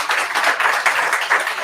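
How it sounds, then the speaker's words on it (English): Applause from a meetup audience after a talk in Oslo, a steady patter of many hands clapping at close range for under two seconds with no speech. "So let's give a big clap to Elisabeth."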